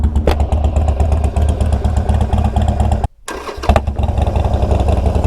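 A loud tuned Harley-Davidson Forty-Eight engine idles with a lumpy, throbbing exhaust, briefly cutting out before a sharp pop and the rumble resuming.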